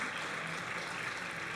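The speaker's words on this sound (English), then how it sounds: "Round of applause for them." Applause from an audience at a cosplay contest, a brief, steady wash of clapping from a crowd, moderately loud and continuous.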